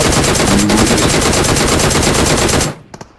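Loud, continuous automatic gunfire in a video game, a dense rapid burst lasting several seconds that cuts off abruptly, followed by two brief single shots.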